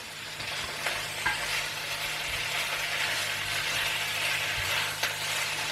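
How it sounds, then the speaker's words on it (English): Shredded cod sizzles steadily in hot olive oil, a continuous crackling hiss with occasional scraping stirs, close and fairly quiet. "You can hear it sizzling."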